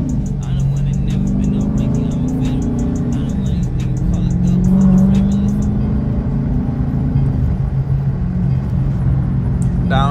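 Dodge Challenger engine downshifting through paddle shifters, a loud steady rumble whose pitch drops and then rises again as the gears change, heard from inside the car.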